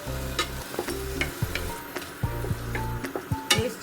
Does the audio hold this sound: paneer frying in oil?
yes